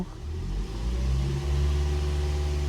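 A Toyota Vios engine, fitted with new spark plugs, revs up steadily, its low droning hum rising and holding loud and close for a few seconds with no voices.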